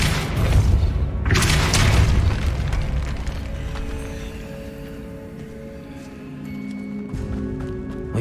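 Depulso force spell in Hogwarts Legacy, a loud booming blast with crackling debris that rumbles and fades into a lingering hum and quieter game ambience.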